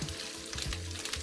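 Browned ground beef sizzling in a cast iron pan, a dense, steady crackle heard up close for a brief moment without any voices.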